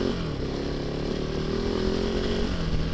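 A KOVE 450 Rally motorcycle engine drones loudly and continuously while being ridden on a wet, slippery road, holding a fairly even pitch throughout.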